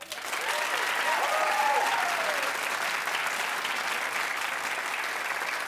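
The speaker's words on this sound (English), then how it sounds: "Clap if you think Rosie would be good." Studio audience at a daytime talk show applauding steadily, a dense wash of many hands clapping with scattered whoops, sustained at full loudness from start to finish.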